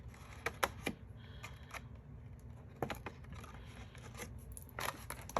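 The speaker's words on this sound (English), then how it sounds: "We're going to cut on our score lines, giving ourselves that little dart." Scissors snip through card along score lines to form a small dart on a gift box. The faint, quiet cuts come in a few short, crisp clusters with pauses between them.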